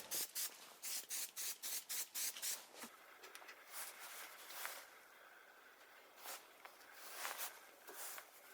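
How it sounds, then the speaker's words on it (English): A rapid series of short hissing bursts from a spray glue can onto foam sheet, followed by quieter rustling and rubbing sounds nearby. "I can use spray glue and attach it to the base"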